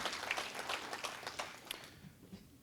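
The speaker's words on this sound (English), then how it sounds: "that deserves a round of applause for all the hardworking people who made that happen" Audience applause at a mayor's speech in Hawaii, a steady wash of many hands clapping that gradually thins and fades toward the end.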